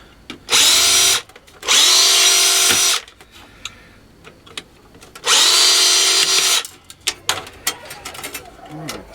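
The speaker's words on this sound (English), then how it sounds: "Let's unscrew a few more bits." A power screwdriver backs screws out of an Apple Mac during teardown for scrap, with three loud, high whirring bursts of about a second each, separated by pauses filled with small clicks and handling noises.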